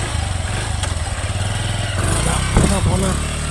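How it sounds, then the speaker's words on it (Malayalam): A motorcycle engine runs close by with a steady, throbbing idle, then swells louder and rougher midway as it revs, with a few sharp knocks near the end. "ബൈക്ക് സ്റ്റാർട്ട് ചെയ്യുന്നു."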